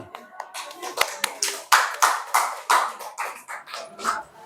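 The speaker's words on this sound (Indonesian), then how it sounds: "Tepuk tangan." Applause from a classroom of students during a lesson presentation, with close, loud hands clapping in a quick irregular series of sharp claps that overlap with some voices.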